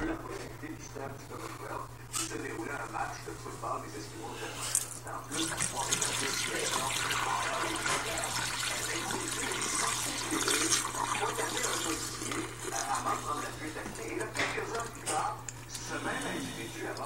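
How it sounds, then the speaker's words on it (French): Liquid is emptied into a bathroom sink in a steady, close, rushing pour that runs for the full length, with a constant low hum underneath and a voice speaking over it now and then. "Là, je vais le vider dans mon lavabo, ici."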